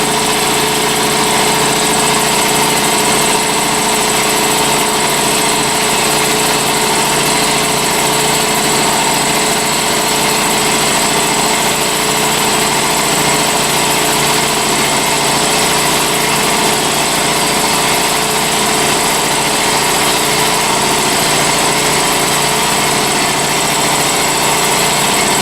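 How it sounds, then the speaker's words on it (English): Foxhunter 3hp 90 litre air compressor running continuously, a steady loud motor whine and hum with no pauses, close by and heard alone. "as you can hear, there's not a great deal of noise off the compressor."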